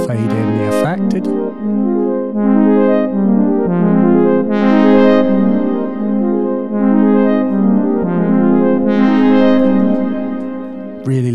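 Electric guitar through Bitwig spectral effects, with delay on the mids and a subtle amp-simulated drive on quieter parts, plays sustained, ringing chords and notes with shimmering repeats, loud and close with no talking.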